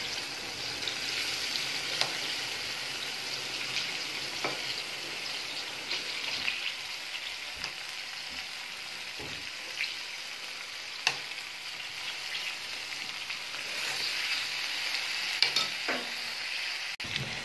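Marinated chicken boti pieces sizzling in melted butter in a pan, a bright continuous frying hiss close up, with occasional soft knocks and pops, no talking.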